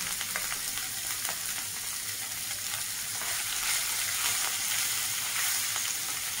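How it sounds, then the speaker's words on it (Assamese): Ginger dropped into hot oil with spluttering mustard seeds for a fish and raw mango curry, a dense, continuous close sizzle with faint pops and crackles throughout, no voices. "সৰিয়হকেইটা ফুটাৰ লগে লগে তাতেই মই এয়া আদা অকণমান দি দিছোঁ।"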